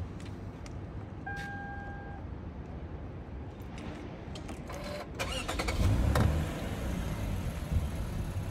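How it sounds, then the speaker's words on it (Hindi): A Toyota Mark X cranks and its engine catches around the midpoint, then settles into a steady low idle, with a couple of short electronic beeps early on and a few light clicks. "गाड़ी स्टार्ट हो गई है।"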